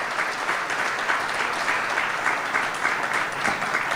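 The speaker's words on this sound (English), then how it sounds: "please give a round of applause for the Air Chief Marshal" An audience gives sustained applause for Air Chief Marshal Vivek Ram Chaudhari at a formal talk, a full, even clatter of many hands clapping throughout without speech.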